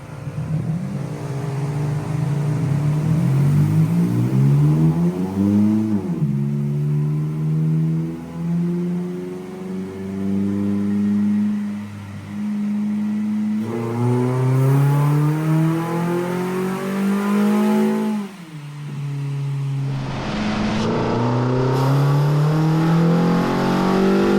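A loud Hyundai engine with nitrous revs hard and steadily on a dyno, pitch climbing in long sweeps, dropping back, then climbing again over and over, with no talking.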